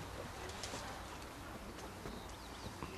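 Racing pigeons circle a loft at a Polish pigeon-racing club, with a steady rush of wingbeats and flutter layered over constant outdoor background noise, and occasional soft cooing close by.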